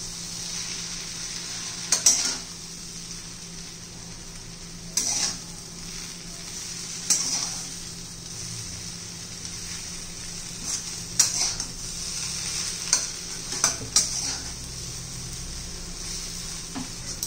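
Roti noodles made from leftover chapati sizzle steadily in a pan, with a utensil scraping and tossing them in short bursts every few seconds.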